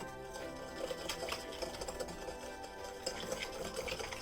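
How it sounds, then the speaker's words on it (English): A lemon bar mixture being stirred in a bowl, with continuous scraping and clinking of the utensil against the sides, quick irregular strokes at close range with no talking. "And give that a nice stir"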